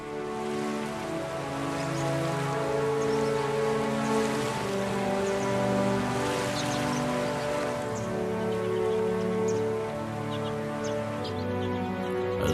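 Heavy rain pours steadily during a mountain thunderstorm flash flood, a dense continuous wash of falling water and churning flow, loud and close, with no pause across the whole stretch.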